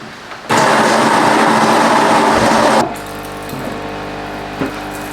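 A Smeg coffee machine making a morning coffee gives a loud, steady hiss and whir for a couple of seconds, then drops to a quieter low hum with faint clicks, close by and with no talking.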